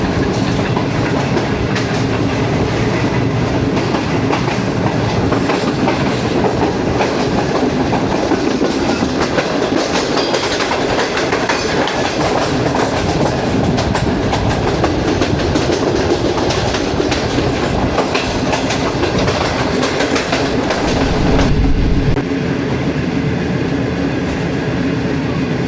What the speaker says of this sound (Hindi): अभी ट्रेन हमारी वॉल्टन रेलवे स्टेशन से गुजर रही है जी